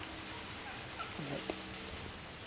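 Faint wild turkey hens call in the distance, a couple of short yelping gobbles against a quiet outdoor background.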